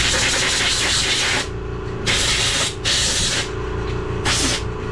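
Carb cleaner sprays into a carburetor choke in loud, close hissing bursts, a long blast followed by three shorter ones with brief pauses between.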